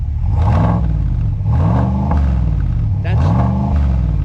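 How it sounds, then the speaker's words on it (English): A pickup truck with a muffler delete and the resonator still in place gets three throttle blips, each a loud rising-and-falling engine rev over a steady rumbling idle, heard close up with voices talking. "Can you give just a little blip on the throttle?"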